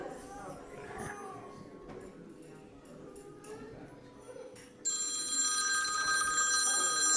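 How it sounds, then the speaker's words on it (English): Bright, sustained metallic bell tones ring out during a church service, swelling louder partway through, with faint murmuring voices beneath. "I invite us to turn off these bells."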